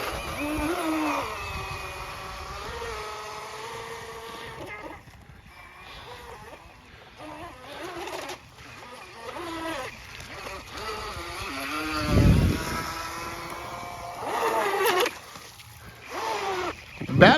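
The motor of a BatBoat model motorboat drones as it pulls away, a fluctuating engine buzz at moderate distance over outdoor background noise, with a few louder swells.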